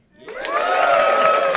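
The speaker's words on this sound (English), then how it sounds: "Just by round of applause, who here is a fan of comedy?" Audience at a live comedy show breaks into applause and cheering, a sustained, dense crowd roar that swells in quickly and holds steady.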